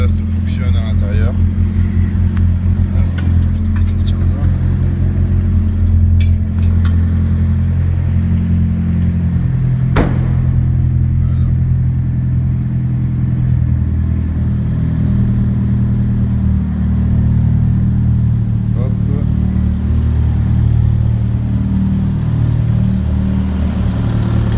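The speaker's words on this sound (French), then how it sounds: "Là c'est pour entendre un peu la fuite d'échappement." A car engine with an exhaust leak idles loudly and close, a deep steady rumble with a ticking, puffing edge and brief revs, while people talk over it throughout.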